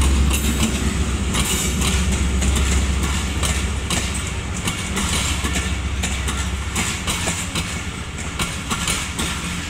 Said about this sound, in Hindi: ये है लामा इकबाल ट्रेन, ये सीधी जाएगी सियालकोट नारोवाल।